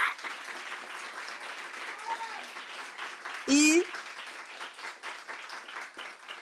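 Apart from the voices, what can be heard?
audience applause after a conference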